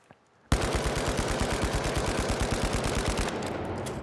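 Rapid automatic gunfire in the video game The Finals on PS5, one sustained burst of evenly spaced loud shots lasting about three seconds after a brief quiet start, then a fading tail.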